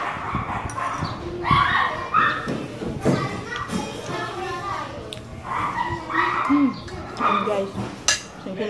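Dogs bark repeatedly from downstairs amid chattering adults and playing children, with clattering dishes in a busy home during a Filipino meal.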